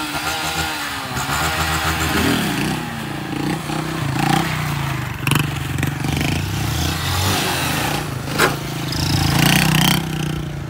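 A motorcycle revs hard while being lifted into a wheelie, its engine rising and falling in repeated surges, loud and close, with a few brief voices mixed in.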